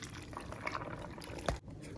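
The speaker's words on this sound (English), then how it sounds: "I'll go ahead and add some water for blending." Water splashes and trickles softly into a container for blending beetroot stew ingredients, a quiet close pour ending with a small splash.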